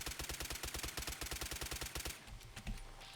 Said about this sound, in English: I'll go over to my automatic one and see if we can get some bullets down range here